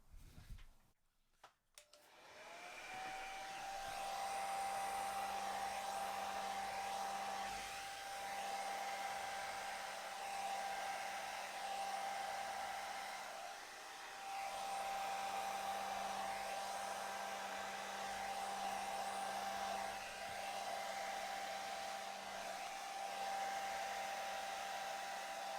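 Hair dryer blowing wet acrylic paint across a canvas in a Dutch pour, a steady whooshing motor hum that starts with a click and runs continuously, dipping briefly midway.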